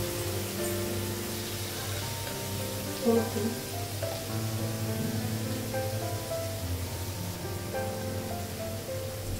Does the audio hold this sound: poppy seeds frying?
yes